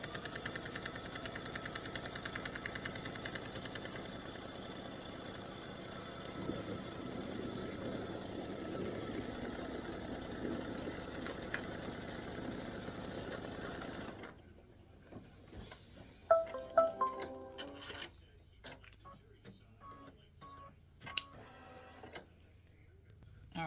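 An embroidery machine stitches the seam allowance of a side panel for an in-the-hoop mug rug, a steady close mechanical whir and rapid ticking that stops, leaving scattered clicks and handling noises.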